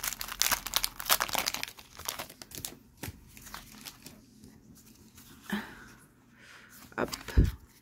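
A Pokémon card booster pack is torn open, crisp crinkling and ripping foil up close in bursts, with quieter rustles and a few sharp crackles between, as people talk softly.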